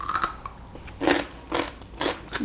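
Three loud, crisp crunches of a bite into pickled radish strips, close up and evenly spaced about half a second apart, with a faint clink at the start and no voices.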